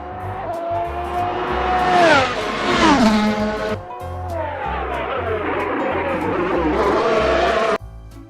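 A toy race car unpacked from a long toy truck hauler whirs and whines as it spins in circles, a steady motor pitch rising and falling with brief squeal-like sweeps, close and fairly loud with no talk.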